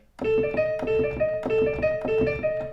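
Harsh, punchy orchestral music from the film score of Signs repeats a short three-note figure in sharp, biting accents, looping insistently at a loud, steady level.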